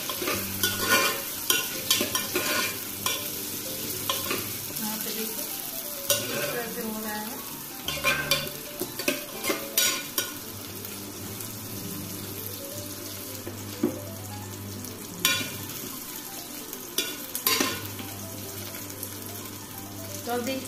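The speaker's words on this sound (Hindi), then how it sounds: "अब देखिए, मैं इसमें आलू डाल के थोड़ा सा भून लेती हूँ।" Potatoes sizzle and crackle as they are stir-fried in a pan for a Hindi-style palak mix khichdi, with steady frying hiss under repeated scraping and stirring clatter close by.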